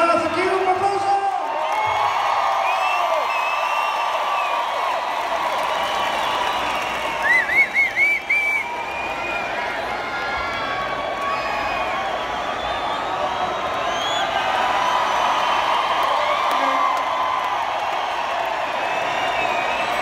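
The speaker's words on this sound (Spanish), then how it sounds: "Gracias, aquí un aplauso." Concert crowd at a show in San Jose, California, applauding and cheering at a steady roar for the full stretch, with scattered whoops rising above the wash of clapping and no clear talk.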